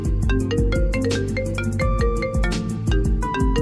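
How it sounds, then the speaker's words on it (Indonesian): A phone ringtone for an incoming call plays as a busy, looping melodic tune with tinkling notes and a steady beat, loud and continuous, with no one talking over it. "Bentar guys, ada telepon."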